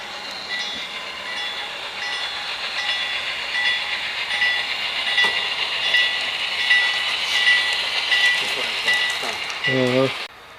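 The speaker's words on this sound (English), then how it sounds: "As the train appears out of the tunnel" A model train rumbles and clatters steadily along its layout tracks for several seconds; a voice begins speaking right at the end.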